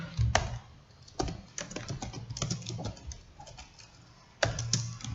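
Computer keyboard typed on while writing JavaScript code, a run of close, irregular key clicks in short bursts with brief pauses, no talking.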